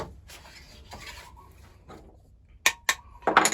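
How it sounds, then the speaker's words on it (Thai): A few sharp metallic taps close by as a small hammer knocks a hand plane's blade down, two distinct knocks followed by a quicker cluster, after some quiet handling noise. "นี่แหละข้อเสียของการเอาเราเอาใบขึ้น เราก็ต้องมาเคาะใบลงใหม่นะ"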